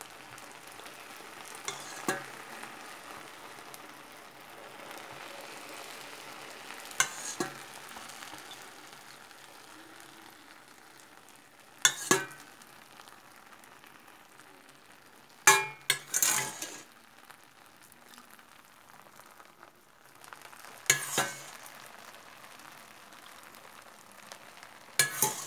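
Syrup poured over hot baklava made with ready-made phyllo dough gives a soft, steady sizzle, broken by several brief louder bursts and a few light clinks of metal; fairly quiet and close, with no talking.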